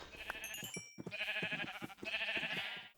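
Sheep on a Minecraft sheep farm bleat repeatedly in quick overlapping calls, a short burst then a longer sustained run of bleats, fairly close and clear with no talking.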